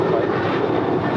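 A seven-year-old Southwest Boeing 737-800 airliner at LAX roars steadily, a loud, continuous broadband engine rumble with no voices.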